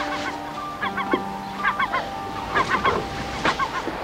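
Harsh, nasal seagull calls in short bursts, repeated several times over steady background noise, fairly close.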